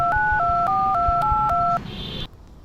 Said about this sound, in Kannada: ಅಭಿ ಕಾಲ್ ಮಾಡ್ತೀನಿ ಒಂದು ನಿಮಿಷ.